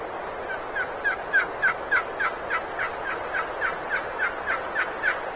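Merriam's wild turkeys gobble in a series of rapid, rattling calls repeating steadily, fairly distant over a faint windy outdoor background in Wyoming.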